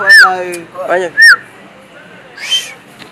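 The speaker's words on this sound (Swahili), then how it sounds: "Hebu piga mluzi." A person whistles when asked, giving a few short, bright sliding whistle notes close up, separated by pauses and mixed with a little vocal sound.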